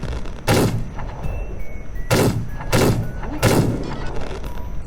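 Lancaster Pistol fired in The Wild West game, four loud, sharp close-range shots spaced unevenly over a few seconds against a steady low background hum.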